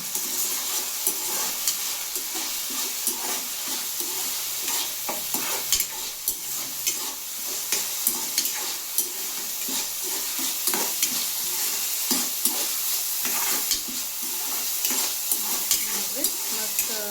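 Chopped tomatoes frying in hot oil, a steady sizzle broken by repeated scraping and clacking as a utensil stirs the pan, close and continuous.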